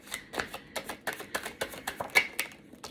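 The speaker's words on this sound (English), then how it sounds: "I like to give them a little shuffle for you guys to let you see that I am shuffling them" A series of quick, crisp card riffles and snaps, close and fairly loud, repeating in short bursts with no talking.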